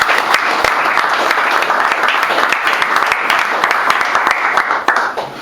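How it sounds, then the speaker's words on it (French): A church congregation applauds at a service, dense sustained clapping from many hands filling the room evenly for several seconds before tapering slightly at the end. "On acclame pour la parole du Seigneur."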